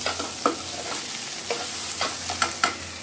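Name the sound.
onion frying with spices in a pan on gas stove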